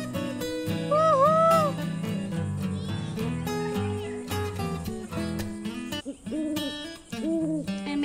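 An owl hoots outdoors on a nature walk, the hooting carrying over a busy, layered background with wavering tonal calls that repeat through the stretch.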